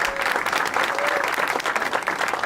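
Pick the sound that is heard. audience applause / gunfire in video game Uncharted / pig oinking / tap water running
audience applause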